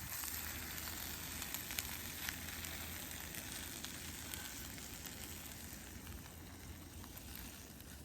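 Kebabs frying in a pan on a camping stove outdoors at an old WW2 airfield give off a steady, faint, continuous sizzle and hiss, with no voices over it.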